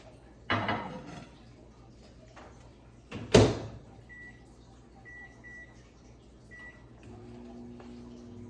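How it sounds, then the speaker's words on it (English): A magic pot is set into a microwave, with a sharp clunk followed by the door banging shut, then several short beeps and the low steady hum of the oven starting to run. "I'm gonna cover it and I'm gonna put it in the microwave for 8 minutes."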